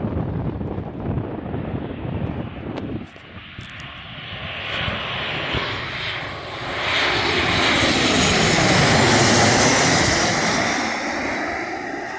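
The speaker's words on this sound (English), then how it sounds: "right now, we're dealing with another Boeing 737" Jet engines of a Jet2 Boeing 737 airliner roar steadily, growing louder and fuller as the aircraft nears, then holding a broad rushing whine. No voices, with some wind noise on the microphone.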